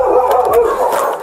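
A guard dog barks and yelps loudly at close range during a police entry, giving a quick burst of strained, whiny barks.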